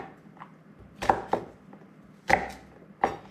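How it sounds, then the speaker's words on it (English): A knife chops roughly through garlic cloves on a cutting board. A few separate, sharp close-up thuds are spaced unevenly, with quiet gaps between them. "I am going to just kind of roughly cut up this garlic a little bit before I put it in"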